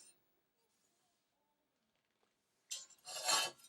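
An adjustable desk laptop stand is lifted from flat and unfolded, producing a short scraping rub and rasp of its parts moving, close and fairly loud after a near-silent start, with no talk over it.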